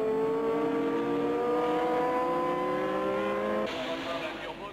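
Alpine-Renault race cars at the 1978 24 Hours of Le Mans roar through chicanes, engines droning loud and steady with shifting pitch as they brake and accelerate, then the tone drops and fades near the end.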